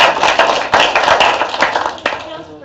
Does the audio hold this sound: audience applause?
yes